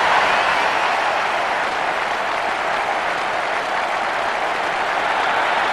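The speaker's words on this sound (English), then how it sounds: "What a noise. Listen to the crowd." A stadium crowd in the N64 football game ISS 98 roars and applauds continuously after a goal, a dense wash of cheering that holds steady throughout with no pauses.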